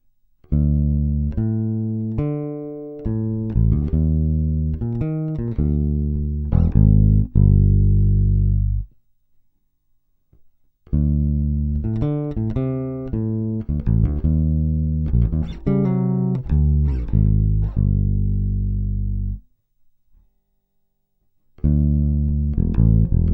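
Bass guitar alone plays a walking jazz bass line, covering bars 9 and 10 of the blues sequence. It runs through three sustained, varied takes separated by short pauses, close and clear with no talking.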